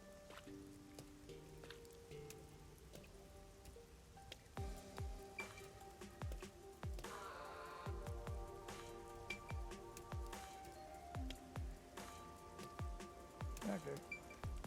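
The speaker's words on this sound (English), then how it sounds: "isn't it weird how it's not flooded, given how it's always raining here?" Steady rain falls across a city in the video game Master Detective Archives: Rain Code, a soft continuous patter with scattered drips and splashes, overlaid by a sparse musical score and occasional low thuds.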